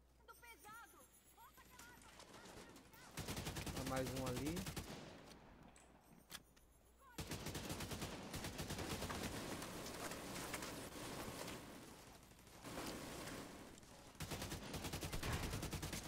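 Machine gun fire in The Division 2: long sustained automatic bursts roar loudly, broken by a few short pauses, with a voice talking over parts of it.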